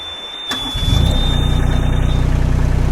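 The small 12.6-horsepower diesel engine of a new Yanmar SV10 one-ton mini excavator cranks and catches, then settles into a steady, loud, close rumbling idle with a faint high whine above it.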